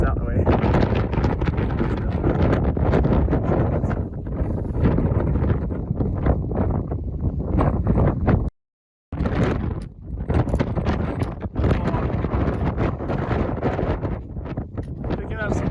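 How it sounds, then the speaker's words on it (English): Heavy wind buffets the microphone on the rocky climb up Mt. Katahdin in Maine, a loud, constant roaring rumble that cuts out for a moment and returns, with muffled talk beneath it. "Picking up some wind, fog."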